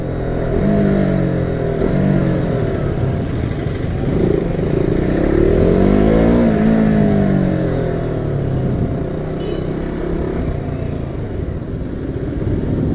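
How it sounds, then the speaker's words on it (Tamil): A two-wheeler engine drones steadily while riding along a road in Arakkonam, Tamil Nadu, a loud close rumble with subtle rises and dips in pitch as the throttle shifts, wind noise layered over it throughout. "நானே ரொம்ப நாள் கழிச்சு ஓட்டுறேன்னா வண்டியோட சவுண்டு எனக்கு வேறு மாதிரி கேட்குது."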